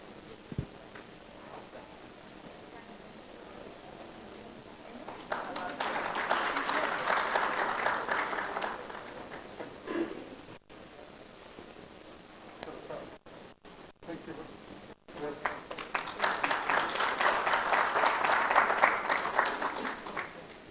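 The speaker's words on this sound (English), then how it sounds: "Please give a warm round of applause." At an education conference, an audience gives two long rounds of applause, each a broad wash of clapping that swells and fades, separated by a quieter stretch with a presenter announcing names.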